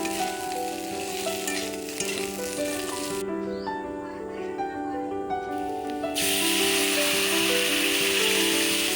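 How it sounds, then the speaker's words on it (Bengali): A fried rohu fish head is stir-fried with spices in a pan, producing a strong, steady sizzle with a constant background hum and a brief quieter stretch in the middle. "রুই মাছের মাথা সমস্ত মশলার সাথে ভালো করে কষিয়ে নেবে।"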